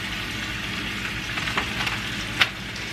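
Sausage meat, taken out of its casing, browning in a pan for spicy chili: a steady, close sizzle and crackle that runs throughout, with a few sharper pops and no talking.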